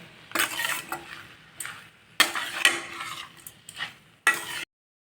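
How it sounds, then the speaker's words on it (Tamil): A spoon scrapes and stirs red aval (poha) kozhukattai dough in a pan in several separate close strokes, with soft clinks of metal between short pauses. "கொஞ்சம் குழையிற மாதிரி நம்ம கிளறி கொடுத்துடலாம்"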